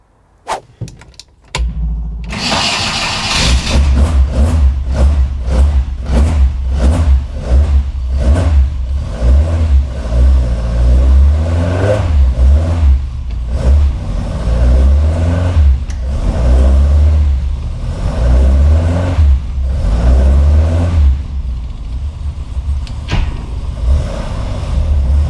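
Mk1 Ford Escort engine, just converted from automatic to a manual gearbox, barks to life after a few clicks and then revs repeatedly in loud rising and falling surges while being tested on a ramp.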